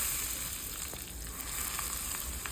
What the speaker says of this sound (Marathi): आणि जास्त याला तेलामध्ये परतून नाही घ्यायचं, हलकंसंच परतून घ्यायचं आहे.